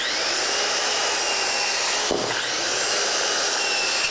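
A saw cuts steadily through wood guided against a square, a loud continuous rasping whine that holds for the whole stretch with a brief catch midway, alone without talk.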